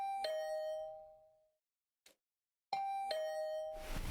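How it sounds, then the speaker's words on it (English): A doorbell rings twice in a video game, each a clear two-tone electronic chime that rings out and decays, separated by a pause of near silence with a faint blip in between. "Hearing the doorbell stubbornly ringing again and again, I finally got up."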